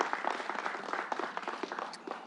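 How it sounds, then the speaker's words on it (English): An audience at a mass vaccination site in New York applauds, a dense, steady wash of clapping held at a moderate distance, with no speech over it. "Let's give him a round of applause."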